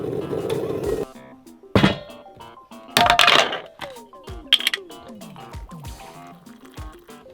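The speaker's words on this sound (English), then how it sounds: "This is how much milk Keely has in her coffee" Milk is poured into a cup of coffee with a close, brief liquid trickle at the start, followed by scattered clinks, taps and small drips in a quiet room.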